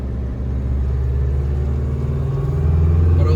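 An Isuzu pickup truck's engine rumbles steadily while driving off-road, a loud, close, low drone that rises slightly in pitch toward the end as it pulls.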